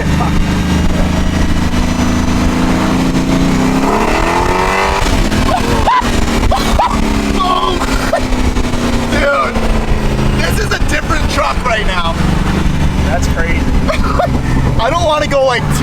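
A BMW E36 with an LS3 engine revs up with a rising roar, loud and close, while people talk and laugh over the steady rumble.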